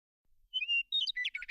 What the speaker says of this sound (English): she heard the birds chirping